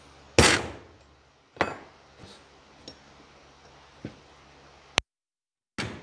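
A hammer strikes a center punch on a steel part of a 1940 Chevy coupe rack and pinion build, one loud sharp ringing hit followed by several lighter taps and clinks spaced apart.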